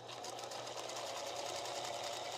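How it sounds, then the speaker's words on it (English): A small sewing machine that has not been working right runs continuously, giving a steady, fast mechanical whir and rattle, close and even in loudness throughout. "I was upset about this little sewing machine not working right."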